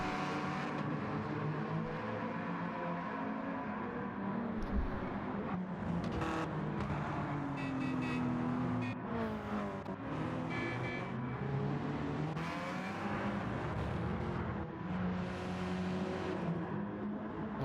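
Race cars run on a track, with engines droning and rising as they file out and pass, layered and fairly distant, continuous throughout.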